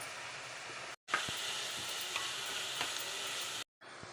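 Onions frying with ginger-garlic paste for a taro curry, giving an even, close hiss of sizzling oil with light stirring scrapes, broken by two brief cuts to silence.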